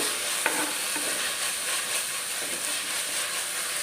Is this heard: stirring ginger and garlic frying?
yes